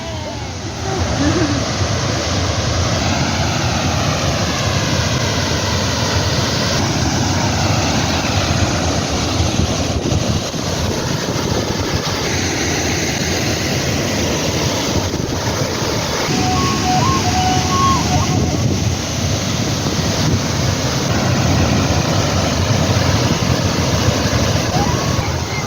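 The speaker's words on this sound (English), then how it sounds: "We're now gonna walk right up to this waterfalls." A waterfall near Bahir Dar, Ethiopia, thunders in a continuous close roar amid misty spray, steady and loud for the whole stretch, with indistinct voices at moments.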